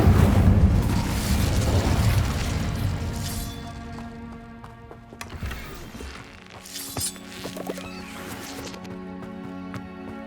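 Fire spell cast in Hogwarts Legacy, a loud whooshing burst that fades into a lingering crackle, followed by several sharper magical hits and a tonal hum, with no voices.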